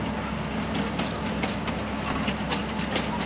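A freight train rolling along railway tracks in Farming Simulator 19, a steady, continuous rumble with rhythmic clickety-clack of wheels over rail joints, heard close and alone.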